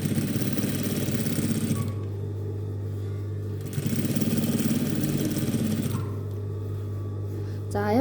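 A sewing machine runs steadily, stitching around the hem of a shirt: a close, even motor whir that pauses briefly twice before starting again, with no talking.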